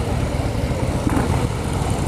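A 2016 Harley-Davidson Breakout motorcycle rides past on a demo day, its engine a steady, loud low rumble throughout with no talk.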